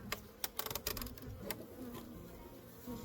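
Honey bees buzz faintly around an opened hive during a mid-winter check, with a few sharp clicks and taps of handling at the start, then a low, thin hum.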